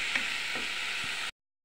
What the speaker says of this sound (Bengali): মাছের তেলের মধ্যেই বেটে রাখা রসুন, পেঁয়াজ, জিরা দিয়ে দিলাম। মশলাটাকে সুন্দর মতো কষিয়ে নেব।